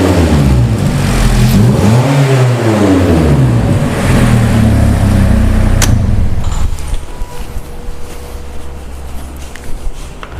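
A car engine under an ignition coil primary signal test revs loudly and climbs in pitch, holds a strong roar for several seconds, then drops back to a rougher, quieter idle.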